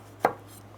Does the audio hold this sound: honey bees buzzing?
no